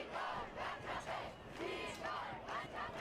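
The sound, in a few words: excited crowd at a rally in Republic Square, Yerevan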